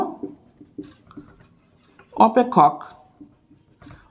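A maths solution is written out by hand, with short scratchy strokes and taps heard beneath a person speaking, including a louder cluster of strokes midway.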